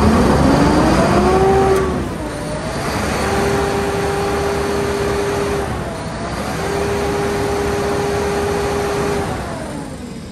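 Isuzu 6UZ1 diesel engine in a 2014 Giga wing van truck, running at a steady idle with a low rumble, two rising whines climbing to a held tone and falling back, no voices.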